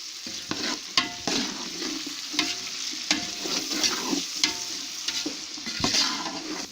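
Spices and Maggi seasoning are stirred in a pot with salt for party fried rice, giving a steady sizzle broken by repeated scraping strokes of the spoon at an even, close rhythm, with no talking.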